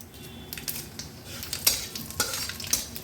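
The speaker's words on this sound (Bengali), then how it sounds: "আমি এখানে ফোড়নে দিয়ে দেবো একটু কালো জিরে। কালো জিরের সাথে দেবো দুখানা গোটা শুকনো লঙ্কা" Nigella seeds and whole dried red chillies sizzle in hot oil for tempering, a soft steady fizz broken by a few sharp stirring scrapes and clinks in a pan.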